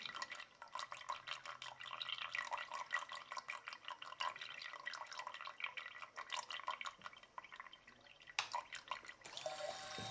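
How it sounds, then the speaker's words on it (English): Water pumped back into a tank in a small programmable logic controller setup: faint, continuous trickling and dripping, quiet and close, with a brief louder splash near the end. "they're pumping the water back"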